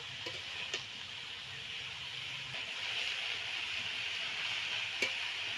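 Cabbage frying in a small kadai, a steady broadband sizzle and hiss running throughout with a few soft stirring clicks, fairly close and even in level.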